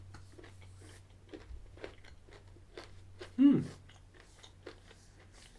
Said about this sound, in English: The almonds are very crunchy.